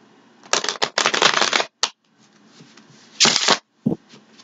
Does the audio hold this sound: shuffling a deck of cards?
yes